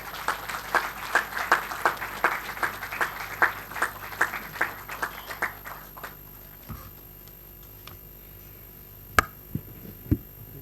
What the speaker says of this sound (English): Please welcome with a rousing applause.